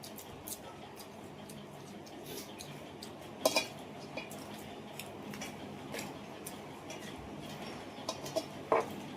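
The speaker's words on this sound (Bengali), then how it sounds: "এই থালগুলো ছিল, থালগুলো নামাচ্ছি।" Metal plates being taken down and handled, with a few faint, sparse clinks over a low background hum.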